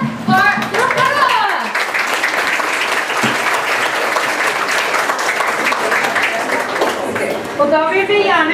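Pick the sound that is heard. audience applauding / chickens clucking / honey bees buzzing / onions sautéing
audience applauding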